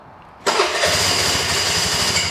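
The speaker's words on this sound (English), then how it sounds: "Starts right up, runs great." A Vespa ET4 scooter with about 44,000 miles starts abruptly after a brief quiet moment, then settles into a steady, loud, close idle that runs on alone.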